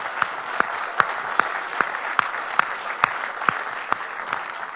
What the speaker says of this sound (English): I'd just like to ask for some applause on their behalf.